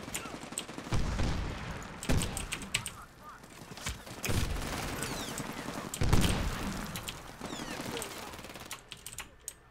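Bursts of rapid gunfire and explosions from the shooter game Medal of Honor: Warfighter, loud and repeated in heavy clusters with short pauses between volleys.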